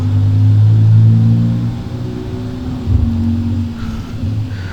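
Car engine in the BeamNG video game, a steady loud rev that drops off, then a second rise with a brief pop near the end, alone without talk.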